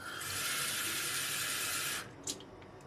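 Tap water runs into a container for udon broth, a steady close hiss for about two seconds before it is shut off, followed by a faint clink.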